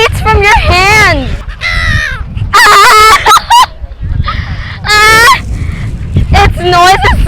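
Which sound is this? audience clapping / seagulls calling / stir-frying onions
seagulls calling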